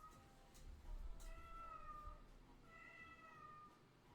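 A cat meows twice, drawn-out and fairly faint, over a quiet indoor background in a streamer's room.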